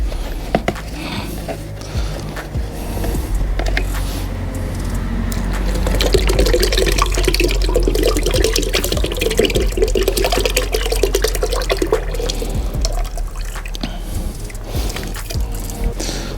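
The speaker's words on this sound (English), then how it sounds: "so now this is the hardener." Epoxy hardener pours steadily into a container for a floor coating, a continuous liquid stream that swells in the middle and carries on with some clatter.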